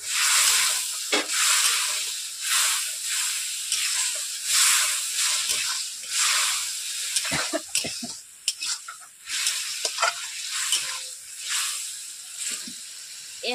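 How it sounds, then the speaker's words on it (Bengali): Loud hissing sizzle as a little water hits hot oil with fried potatoes in a pan, steady and close with bursts of spattering and occasional stirring, no voice. "এরপর আমি সামান্য পরিমাণে প্রথমে জল দিচ্ছি।"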